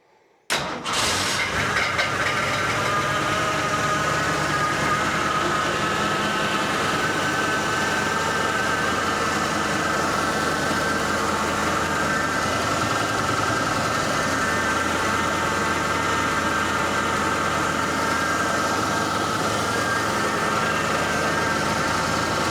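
A 1967 Mustang engine cranks and catches, then settles into a steady, loud, rumbling idle that holds unchanged to the end.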